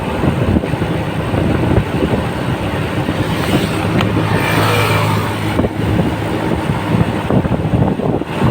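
A motorbike riding along the flooded Kurigram to Nageshwari highway at about 40 km/h, a loud continuous engine and road roar mixed with buffeting wind noise, steady throughout with brief swells.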